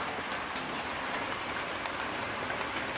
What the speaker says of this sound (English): It is pouring down right now.